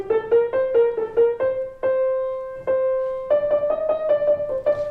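A piano plays a slow Hungarian dance melody by Liszt in a concert setting, with single sustained notes in an unhurried, halting rhythm, clear and close, with no talking.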